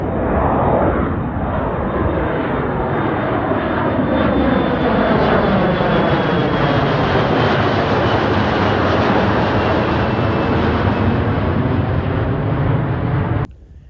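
A JetBlue jet airliner takes off at Cleveland airport, its engines a loud sustained roar that builds and thunders steadily for several seconds before cutting off abruptly at the end.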